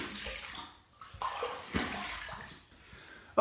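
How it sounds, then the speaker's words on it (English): Running water rinses an AP Shave Co Tuxedo shaving brush, a close, splashy stream that surges and fades in uneven bursts with a sharper splash partway through. "Let's rinse and relather."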